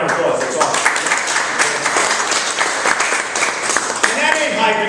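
An audience at a speaking event breaks into a dense round of clapping for a veteran, sustained and fairly loud, with a voice emerging near the end.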